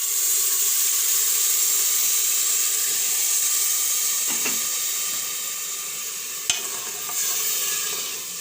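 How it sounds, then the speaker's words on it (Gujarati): Water goes into a hot pan of tempered moong chhadi dal khichdi with turmeric and salt. It gives a steady close sizzling hiss with faint stirring scrapes and one sharp knock near the end, with no talking. "હવે આપણે આમાં પાણી નાખી દેવું."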